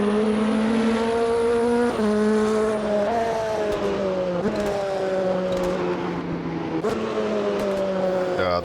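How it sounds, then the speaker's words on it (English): Nissan race car in Automobilista 2 working down through the gears, the engine note dropping in steps with sharp cracks and pops on each downshift, loud and close, without talk. "those cracks on the downshift"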